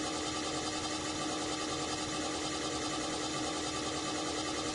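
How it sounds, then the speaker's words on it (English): An electric motor jogs in reverse under a Mitsubishi FR-PU07 inverter control panel, giving a steady, continuous whirring drone that holds an even level throughout. "The motor will jog in reverse."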